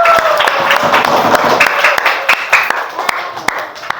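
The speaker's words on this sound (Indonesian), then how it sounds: "Tepuk tangan buat kelompok 5." Classroom applause for a presenting student group during a madrasah teacher performance test, a dense spread of clapping filling the whole stretch at steady strength, with a few sharper single claps standing out and no speech.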